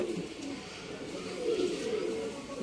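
Giribaz pigeons at a pigeon sale in Bangalore, low soft cooing rising and falling over a steady background hum, fairly faint and continuous for a couple of seconds.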